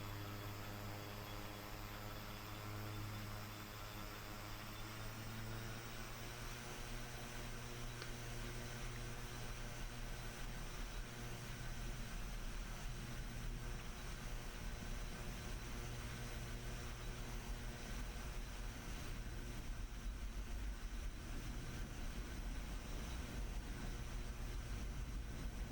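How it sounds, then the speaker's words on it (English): Steady, droning propeller-engine roar of an A-29B Super Tucano in DCS during a rolling takeoff, a continuous loud hum with layered tonal bands throughout, no voices. "we're just going to do a rolling takeoff here"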